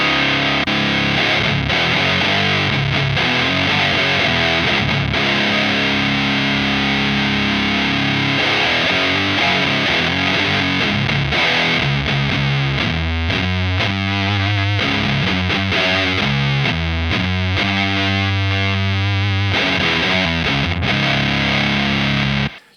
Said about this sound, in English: when you engage the boost, you'll get more distortion